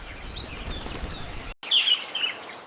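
Forest birds in the Amazon chirping and calling, high thin twittering over a rustling, flapping background, broken by a brief silent cut before brighter, closer chirps resume.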